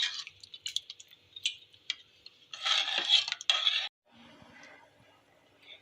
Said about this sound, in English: Now let's mix it well